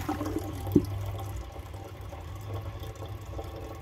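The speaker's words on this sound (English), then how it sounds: "let's wait for the tank to fill back up" Water runs and gurgles as a Kohler Rialto Ingenium toilet tank refills after a flush, a steady low trickle with one brief clunk near the start.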